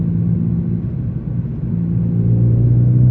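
Ford Fiesta ST MK7 with HP300 upgrade by Hendy Performance, its engine's induction noise a steady, loud low drone and rumble heard from inside the car, rising slightly in pitch toward the end.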